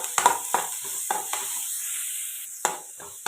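Tomatoes being sautéed with garlic and onion in a pan, with intermittent sharp scraping stir strokes over a soft sizzle, several quick ones early, a pause, then more stirring near the end.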